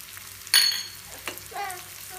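Spices and curry leaves being tempered in hot oil in a pan for a Covai-style green gram kulambu, a sudden loud sizzle bursting in at once and then fading, followed by quieter stirring scrapes.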